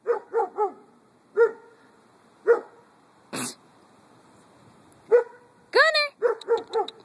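A dog barks in short bursts, a few quick yips together then spaced single barks, close and loud, ending in a rapid flurry.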